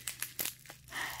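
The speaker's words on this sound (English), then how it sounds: "this one's all wrapped up, so I should unwrap it" Plastic or paper wrapping on a small mailed beauty parcel crinkles and tears in several short, close bursts, with a steadier rustle toward the end.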